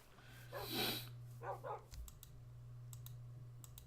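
A pack of dogs barks a few times at a distance in Minecraft, followed by scattered light clicks against a steady low hum.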